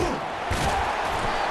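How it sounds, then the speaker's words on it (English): A home crowd at a football game roars steadily as the defense tries to get off the field on third down, a dense, loud wash of cheering that holds throughout the short stretch with faint voices mixed in. "Here comes this home crowd as the defense tries to get off the field on 3rd down."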